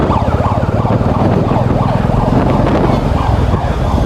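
An ambulance siren wails on a street in Durbarmarg, its rising and falling tone repeating steadily and loudly over a constant low rumble of traffic.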